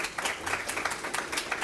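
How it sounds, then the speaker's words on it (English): Audience applause at a university technology and society forum on fracking, a steady patter of many hands clapping at moderate distance with no talk over it. "Let's give him a hand of applause."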